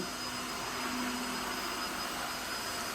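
A Tineco Floor One S3 wet-dry vacuum suctioning crumbs off a floor, giving a steady, even motor whir with a faint high whine, at moderate volume and with no voices.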